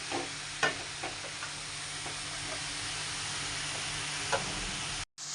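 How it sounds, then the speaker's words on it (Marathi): Grated carrots frying in ghee for carrot halwa, a steady close-up hiss of sizzling with a few faint stirring clicks throughout, no talk. "किसलेले गाजर चांगले परतून घ्यायचं आहे"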